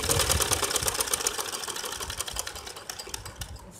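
A sewing machine stitches the fitted sleeve of a baby butterfly frock, running in a steady rapid mechanical chatter for the whole stretch, close and fairly loud with no talking.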